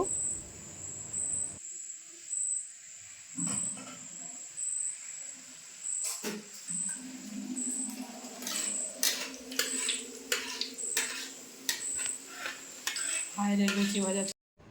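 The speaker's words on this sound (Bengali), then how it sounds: "এদিকে লুচি ভাজা চলছে" Luchi fry in hot oil in a home kitchen, giving off an intermittent sizzle broken by stirring and clinks of utensils against the pan, with a high steady whine in the background.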